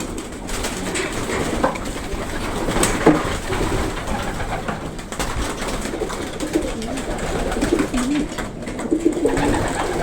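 Male racing pigeons coo continuously in the cock section of a loft, a dense, steady murmur of overlapping coos with scattered shuffling and wing noises.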